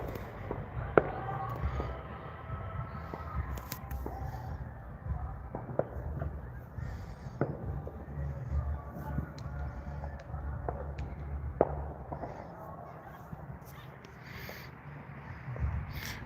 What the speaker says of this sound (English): We get random fireworks every now and then from people out in their yards